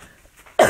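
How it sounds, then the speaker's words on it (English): A single abrupt cough at the end, close and loud, after a moment of near quiet. "I still can't quite get rid of this cough."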